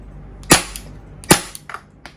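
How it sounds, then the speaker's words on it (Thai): A compact Colt 25 Cybergun gas BB pistol fires two sharp, loud cracks about a second apart, followed by a few fainter mechanical clicks. "อันนี้คือยิงออกอยู่นัดสุดท้ายนะครับ"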